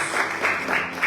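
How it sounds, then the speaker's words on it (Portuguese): Congregation at a church Bible study service applauds, a brief burst of steady, rhythmic clapping heard close and fairly full. "Aplausos"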